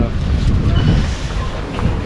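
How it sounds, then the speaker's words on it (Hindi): Wind blows outdoors on a cold, cloudy day at a market in Russia, a steady loud buffeting rush across the microphone throughout. "सुबह से बादल हैं, हवा चल रही है।"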